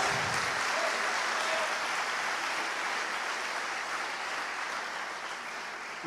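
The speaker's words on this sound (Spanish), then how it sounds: "Den un aplauso al Señor Jesucristo." Sustained applause from a church congregation during a Spanish-language sermon, a dense steady clapping wash that fills the whole stretch and fades slightly toward the end.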